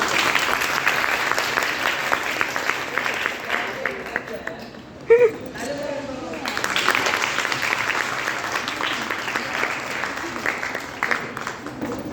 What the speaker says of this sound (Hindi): सर एक बार जोरदार तालियां बजाओ